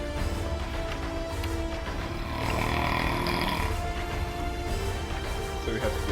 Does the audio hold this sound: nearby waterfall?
no